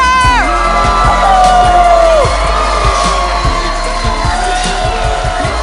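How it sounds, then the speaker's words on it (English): A talk-show studio audience cheers, whoops and yells for an arriving guest, loud and close, with a rising, gliding tone sweeping through the noise and scattered clapping beneath. "Everybody, please give a huge round of applause to Don Salter!"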